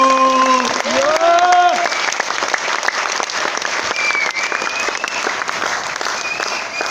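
A seminar audience claps with both hands raised, a steady roar of clapping with a voice calling out and some cheering mixed in at the start.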